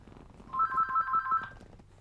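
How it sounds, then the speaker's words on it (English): A telephone rings loudly nearby in a repeated two-tone trill for about a second, then stops, with no one talking over it. "I'm not going to answer it, but it will continue to ring"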